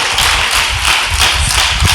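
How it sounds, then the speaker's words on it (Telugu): Church congregation clapping hands together, a steady dense patter of many palms close by that runs the whole moment with no voices over it. "చప్పట్లు కొట్టండి, దేవునికి స్తోత్రం"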